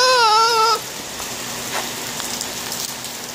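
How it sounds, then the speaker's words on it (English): Rain falls outdoors as a steady, soft hiss and patter. A short, high, wavering cry-like tone comes first, then the rain continues alone at an even level. "Literally just like 2 minutes ago, it was not raining. Now it is."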